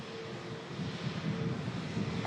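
Jet2 Boeing 757 landing at Manchester Airport after a hydraulic emergency, a steady low jet-engine roar with wind rumble, moderately distant.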